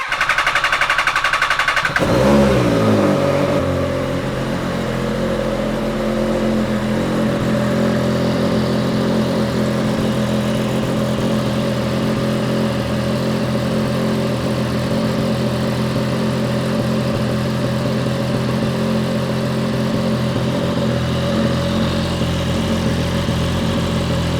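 An MV Agusta F3XX track motorcycle engine starts with a brief burst, then settles into a steady, loud idle that runs without a break for more than twenty seconds, close by and with no one talking.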